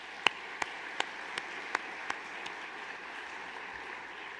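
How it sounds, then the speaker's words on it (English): A few scattered hand claps from an audience at a State of the City address ring out sharply and quickly taper off, about half a dozen distinct claps over a quiet room. "Let's give them a round of applause."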